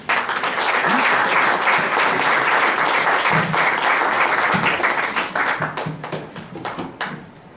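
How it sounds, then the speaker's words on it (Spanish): An audience at a presentation of a book on project engineering, held at a faculty of chemical sciences, gives sustained applause. It stays steady for several seconds, then thins into scattered claps and fades. "Le recibimos con un cariñoso aplauso."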